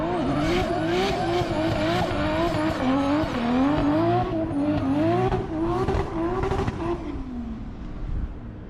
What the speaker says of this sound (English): That car sounds unbelievable. Sounds so good.